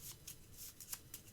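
Unsleeved Magic: The Gathering cards being shuffled by hand, a series of soft crisp riffling bursts repeating in quick succession, fairly quiet and close with no talking.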